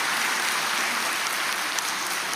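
A church congregation claps during a Sunday sermon, giving a dense, even patter of many hands, like rain. It runs steadily at a moderate level throughout, with no voices over it.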